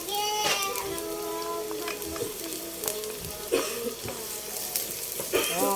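Garlic and onion sizzle in cooking oil in a non-stick pan, a close crackling fry with occasional stirring scrapes, and faint voices in the background.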